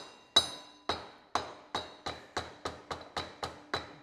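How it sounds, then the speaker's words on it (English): A rubber mallet taps a 7/8 socket down onto a John Deere lawn tractor's transmission drive pulley, giving about ten sharp, close knocks at a steady, slightly quickening rhythm, each with a short ringing decay. "Rubber mallet."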